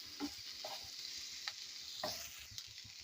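Ground black pepper and green chilies sauté in a pan, a soft continuous sizzle of oil broken by several light spatula scrapes and taps, fairly quiet and close with no one speaking.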